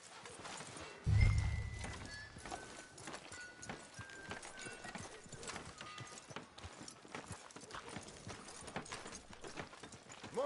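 In a western video game, a horse's hooves clip-clop steadily at a walk and a whinny sounds near the start, with faint ambient game sounds and quiet music underneath.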